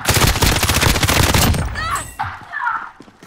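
Rapid bursts of automatic gunfire from a Call of Duty: Modern Warfare Resurgence match on Fortune's Keep, dense and loud for over a second, then trailing into quieter game effects and distant shots.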